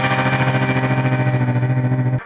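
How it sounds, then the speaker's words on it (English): A sustained synth tone gets chopped by a very fast tremolo effect in Ableton Live, set to 32nd notes as part of a dub echo rack with auto pan. The tone pulses rapidly and loudly, then cuts off abruptly near the end. "If we make the tremolo really fast, this is on 30-second notes, it gets a chopped sound."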